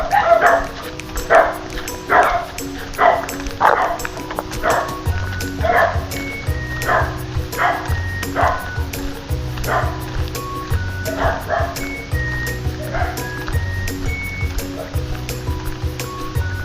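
A dog barks over and over in a steady rhythm, fairly close, while low tones and other background sounds continue underneath.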